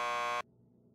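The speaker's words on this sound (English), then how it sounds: "Just press the buzzer by the door." Door buzzer in the video game Max Payne 2, a loud steady electronic buzz lasting under half a second and then cutting off sharply into quiet room tone.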